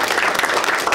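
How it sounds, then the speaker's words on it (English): A school audience applauds students of the quarter, a brief burst of dense clapping filling a second, loud and steady. "One last round of applause for our students."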